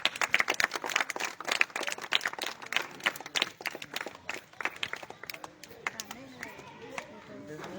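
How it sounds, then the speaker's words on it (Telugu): A crowd of people claps in a steady, dense patter of applause, with a few sharper individual claps standing out; the clapping thins out near the end as murmuring voices come through. "చప్పట్లు కొడదామండి"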